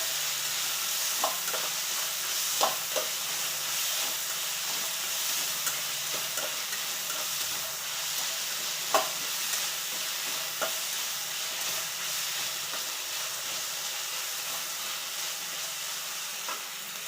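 Kadachikayi fries in a pan with a constant sizzle, while a spoon stirs and scrapes it, making scattered clicks and taps over the hiss. No one speaks.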